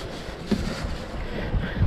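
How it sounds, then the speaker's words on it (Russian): Strong northern wind buffets the microphone during a stormy carp-fishing session, a rough continuous roar with gusty bumps, heard alone. "Ветер с ума сходит, конечно."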